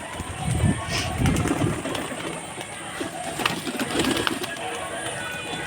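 Soft pigeon coos repeat at intervals over a busy outdoor background with faint murmuring voices.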